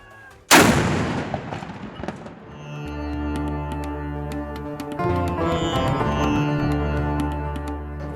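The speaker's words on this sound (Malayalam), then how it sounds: "ഇഫ്താർ സമയം അറിയിക്കാൻ മുഴങ്ങുന്ന പീരങ്കി വെടി" A single loud cannon blast fired in the UAE to announce iftar booms out, followed by a long rumbling echo as sustained tones and music swell in behind it.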